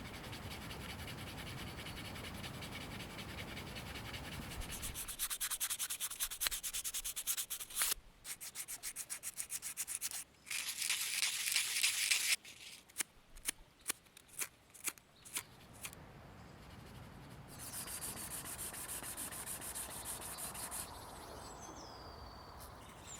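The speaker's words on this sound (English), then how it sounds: "I like to sand the wood for a smoother finish" A hand-carved wooden spoon is sanded in close, scratchy bursts of rhythmic strokes, separated by short pauses and a stretch of quieter rubbing, with no voices.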